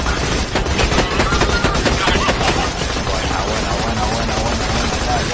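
Sustained rapid machine gun fire in Borderlands 2, loud and dense across the whole stretch, with overlapping shots and chopping bursts.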